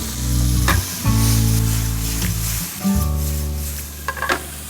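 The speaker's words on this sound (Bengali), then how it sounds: "আমরা চিকেনটাকে আবার গ্রিল করে নিচ্ছি।" Chicken sizzles loudly and steadily on a grill, a continuous close hiss with brief pauses and light clatter near the end.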